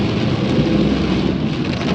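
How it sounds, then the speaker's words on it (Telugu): Dense, heavy rain pours down at night on the mountain road from Coimbatore to Ooty, a steady roaring hiss, close and loud with no pauses. "చాలా వర్షం ఉంది అసలు."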